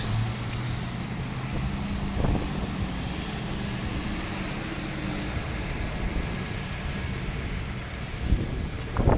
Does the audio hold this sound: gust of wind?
yes